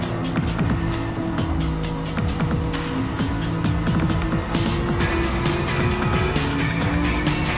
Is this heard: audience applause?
no